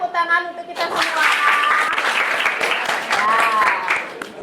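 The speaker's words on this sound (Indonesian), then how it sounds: "tepuk tangan untuk kita semua" A classroom full of students bursts into applause, a dense clatter of many hands clapping together for a few seconds, with voices cheering and calling out over it.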